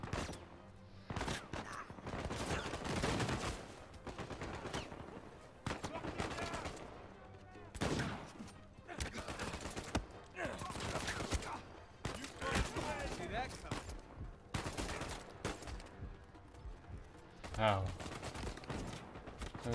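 Gunfire in Uncharted 4 during a firefight on a treasure trail, loud bursts and single shots cracking irregularly while a person talks between them.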